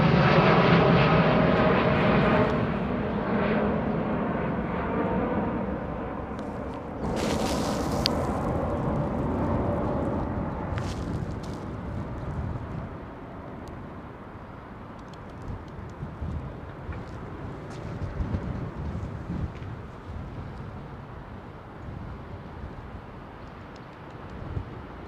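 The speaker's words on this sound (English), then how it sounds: "Nice big high aspect wing on the 787. Another one of British Airways" A British Airways Boeing 787-8 departs London Heathrow with a broad, steady jet roar that is loudest at the start and slowly fades as the aircraft climbs away eastbound.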